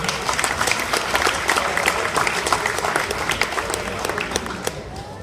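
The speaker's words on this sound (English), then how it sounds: "So big hand clap for her." An audience at a press conference breaks into dense, continuous applause, many hands clapping together at a steady, fairly loud level for several seconds.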